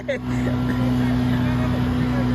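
A motorcycle engine runs steadily while pushing through flood water, a close, constant hum with a sustained tone, and a voice briefly sounds near the start.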